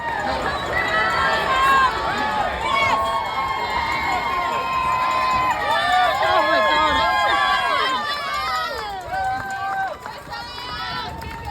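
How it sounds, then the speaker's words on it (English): A loud crowd lining Tower Bridge during a marathon cheers and screams as runners pass, with shrill whoops, shouts and excited voices overlapping continuously at close range. "Here I am then, running over Tower Bridge, and listen to that crowd."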